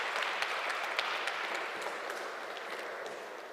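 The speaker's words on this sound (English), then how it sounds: "could we give Julian, Konrad, and Andy a massive round of applause?" Audience applause for three panel speakers at an automation open house, a steady wash of many hands clapping that holds fairly even and tapers slightly toward the end.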